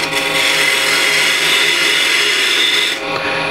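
Woodturning lathe spinning at 1300 RPM while a gouge makes a shear cut on a wooden piece, giving a loud continuous hissing, rubbing whir up close that eases off briefly near the end.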